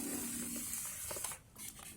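Water sprayed from a one-gallon hand sprayer onto surfaces in a damp space, a steady close hiss running through most of the stretch, with a short drop before a final burst.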